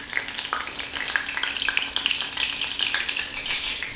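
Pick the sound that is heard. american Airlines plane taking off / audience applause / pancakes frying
pancakes frying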